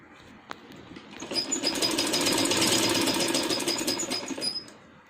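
A sewing machine stitches a dress in one continuous run of a few seconds, rising from quiet into a fast, even mechanical rattle and then stopping, up close with no talking.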